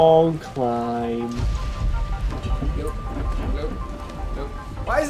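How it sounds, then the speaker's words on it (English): Rain in the video game Dying Light hisses steadily through a climb, with low thunder rumbling underneath and brief tonal game sounds at the start and end. "Why is it always raining when we climb things?"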